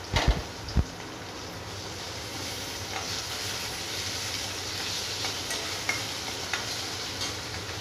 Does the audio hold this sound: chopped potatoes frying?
yes